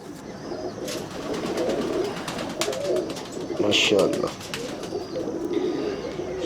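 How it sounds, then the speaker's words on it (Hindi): Pigeons of the Mistry Sahib missa breed coo in low, rolling bursts close by, a steady murmur running under a voice as he talks. "ये वही कबूतर है जी"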